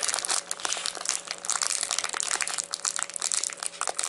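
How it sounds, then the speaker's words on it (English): A Dorito chip bag is folded over at the top, producing close, continuous crinkling and crackling of foil packaging in quick irregular bursts. "you can take your Dorito bag. You want to try to seal off this top a little bit, the best you can. Just fold it over."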